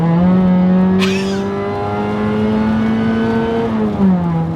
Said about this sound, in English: it makes blower noises out of nowhere